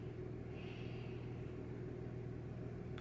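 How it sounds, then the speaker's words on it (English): A neighbor's loud diesel truck idles nearby with a steady, heavy low rumble, continuous and unbroken. "My neighbor's loud diesel truck is here just in time for the end of the video."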